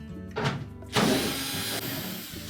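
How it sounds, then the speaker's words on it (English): A cordless driver whirs briefly, then runs longer as it backs out the screws holding the blower housing cover on a Whirlpool dryer, close and fairly quiet with a short pause between runs. "we'll remove the 4 screws that secure that blower housing cover to the actual blower housing"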